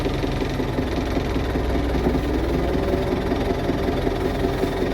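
A tractor engine idles loudly nearby, a steady low rumbling chug with an even knocking pulse that holds throughout.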